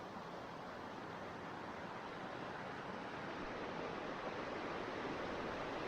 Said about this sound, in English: Back to Harper Creek. Beautiful, beautiful stream.